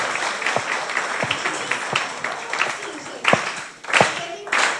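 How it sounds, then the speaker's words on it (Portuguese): An audience claps along in a rhythmic, dance-like beat, sharp hand claps repeating steadily and growing denser toward the end, with voices mixed in underneath. "eu queria uma salva de palmas em ritmo dançante"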